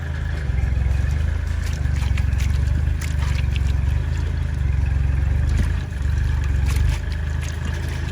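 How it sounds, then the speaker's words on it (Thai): A tractor ploughing a nearby field drones steadily with a low, throbbing rumble and faint mechanical rattle, running continuously without talk. "อาจจะเสียงดังหน่อยนะครับ ผมข้างๆมีการไถนาอยู่นะครับ"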